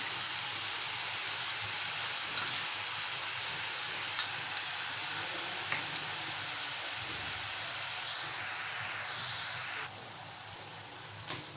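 Ginger, garlic, green chili and coriander paste sautéing in a pan for a mushroom masala, a steady soft sizzle with a few faint stirring clicks throughout.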